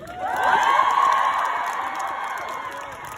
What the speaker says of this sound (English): So can we have a big cheer in solidarity?